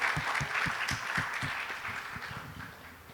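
Audience applause at a memorial program in a hall, with clear rhythmic claps at a steady beat over a softer wash of clapping that gradually fades.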